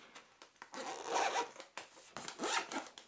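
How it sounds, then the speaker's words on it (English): A zipper slider on a 15.6-inch laptop sleeve is pulled back and forth several times, giving crisp ratcheting zips in short bursts, close and clear with no talking. "both do have nice sliders on the zippers as well"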